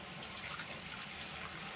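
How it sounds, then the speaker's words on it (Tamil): Water from pressure-cooked dal poured into a vessel in a home kitchen, a steady soft splashing stream running throughout at low volume. "பருப்பில் இருக்கிற தண்ணியை வந்துட்டு ஒரு பாத்திரத்தில் மாற்றிக்கிறேன்."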